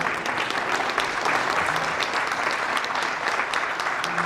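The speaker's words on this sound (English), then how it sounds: "Let's give her a big round of applause." Steady audience applause at a university graduation ceremony, a dense, even wash of many hands clapping that holds at full strength throughout without letting up, with no voices standing out above it.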